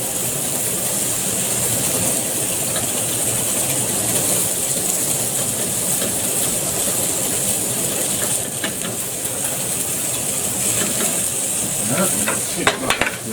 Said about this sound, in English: before it starts cooking, we'll get a bit of a whisk